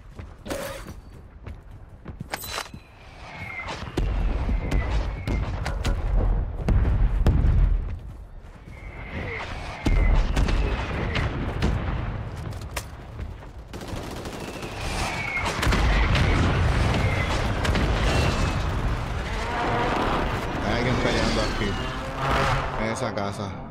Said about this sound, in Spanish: Como que escucho unos tiros,